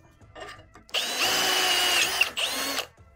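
Power drill boring a 7 mm hole as part of a makeshift thread-cutting job, a close high whine for about a second and a half, a brief stop, then a shorter second burst.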